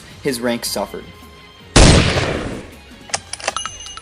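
A single loud gunshot-style burst from a sniper sound effect cracks out abruptly and decays over about a second, with talk before it and faint tonal sounds after.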